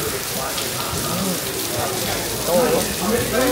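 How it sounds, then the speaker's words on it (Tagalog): Sudden rain falls steadily on surfaces in El Nido, making a dense patter that grows slightly louder near the end while people talk nearby. "Bigla namang ulan."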